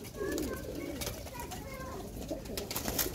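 Pigeons coo repeatedly in a loft, soft low warbling calls overlapping one another at close range over a steady background hum, with a faint voice in the mix.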